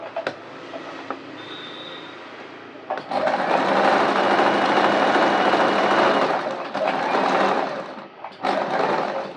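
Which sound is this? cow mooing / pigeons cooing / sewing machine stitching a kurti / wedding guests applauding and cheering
sewing machine stitching a kurti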